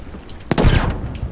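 A single sharp gunshot crack with a short rumbling tail sounds in the Battlefield V Firestorm game mode. It is loud and close, with faint game noise before it.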